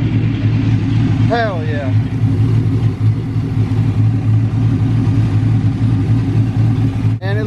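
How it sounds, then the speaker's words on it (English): A project car called Ms Parker, just started after its fuel pump cycled, idles with a loud steady low rumble while a man briefly exclaims, and a sharp click sounds near the end. "So when I turned on, the car turned on."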